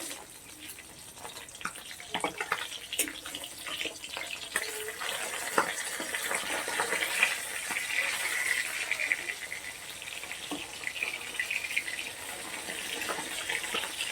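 Fish fry in hot oil in a pan for a Bengali bata fish curry with tender okra, giving a steady, moderately loud crackling sizzle with scattered pops and no talk.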